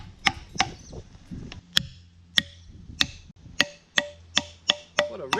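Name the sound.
ringing strike on a wedge while splitting a log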